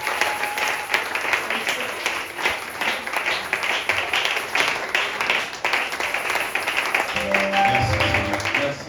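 A church congregation at a prayer seminar applauds and acclaims the Lord, with steady, continuous clapping and cheering voices filling the room throughout.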